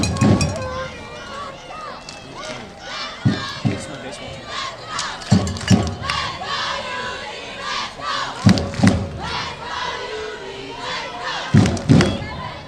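Noisy home crowd of Wildcat fans at a high school football game (University vs Venice High), a continuous roar with repeated loud surges of shouting and cheering, voices calling out throughout.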